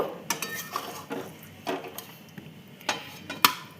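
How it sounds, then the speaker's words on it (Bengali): Cooked ridge gourd with poppy-seed paste being spooned from a pan into a bowl, giving a series of soft scraping and clinking strikes of utensil against cookware, close and moderately loud, with quiet pauses between. "নামিয়ে নিচ্ছি একটা বাটিতে"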